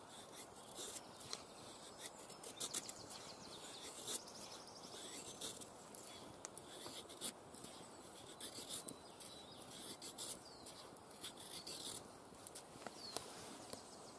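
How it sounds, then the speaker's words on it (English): A knife carving a feather stick outdoors, the blade gliding along the wood as the stick rotates, producing a steady, faint scraping and rasping that continues throughout with small irregular peaks. "So as I'm going, I'm rotating the stick. the more pressure you put on, the deeper you will cut."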